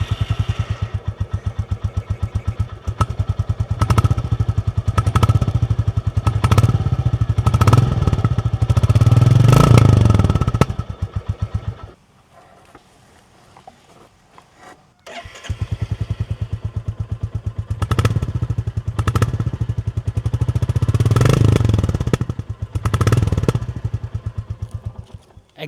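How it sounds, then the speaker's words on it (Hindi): Royal Enfield Bullet 350 Battalion and Standard motorcycles run in turn, each with a steady, loud, thumping single-cylinder beat close by, separated by a brief near-silent gap. "इन दोनों ही बाइक्स की अगर मैं आपको साउंड सुनाऊँ"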